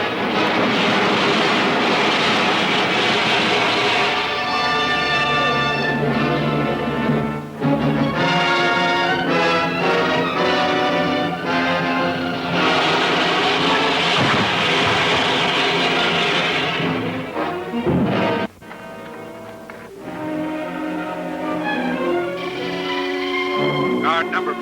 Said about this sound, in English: An airborne craft like nothing I've ever seen on Venus is landing at coordinates 7-18.